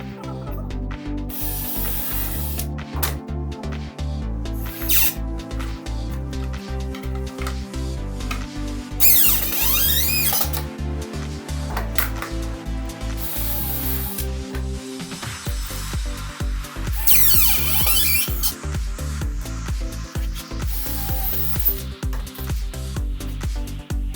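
Screws being driven into a bathroom cabinet frame: a power driver whirs in repeated short bursts with clicking and ratcheting, close and fairly loud, pausing between screws with no talk.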